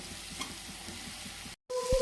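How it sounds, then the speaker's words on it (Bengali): Steady sizzling of turmeric and Kashmiri chilli powder frying in a hot pan, close and continuous, with a brief cut to silence near the end before the sizzle returns. "এরপরে আরেকটু হলুদ আর কাশ্মীরি লঙ্কার গুঁড়ো দিয়ে একটু ভেজে নিচ্ছি"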